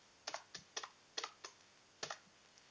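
Typing on a computer keyboard while editing HTML code, heard as sharp, close key clicks in short bursts of two or three with brief pauses between, quiet and alone without talk.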